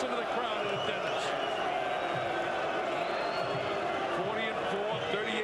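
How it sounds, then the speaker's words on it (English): A large boxing arena crowd roars steadily at a heavyweight title bout, a dense continuous wall of cheering and noise with a commentator talking over it. "Listen to the crowd in attendance."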